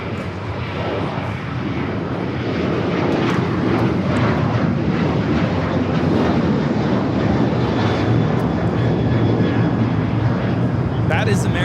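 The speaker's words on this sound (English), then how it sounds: "That is American Airlines 613 taking off to Chicago on the 737-800" American Airlines Boeing 737-800 taking off at Los Angeles LAX, a loud steady jet roar that swells after the first seconds and holds, with a voice talking over it.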